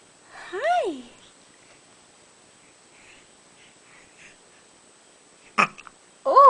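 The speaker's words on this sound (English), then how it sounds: "Oh, good burp." A baby gives a short, sharp burp late on, after some soft squeaky vocal sounds near the start, all close-up and set against an otherwise quiet room.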